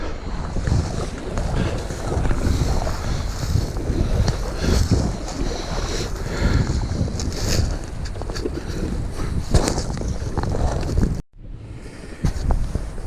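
Strong wind buffeting the microphone on open water during a kayak outing, with a constant roaring rush and splashy wave noise, briefly cutting out near the end, with no talking.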